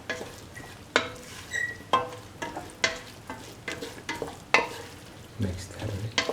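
Bitter gourd and curry leaves stirred in a pan, about eight sharp scraping strokes at a steady pace over a soft sizzle, no talking.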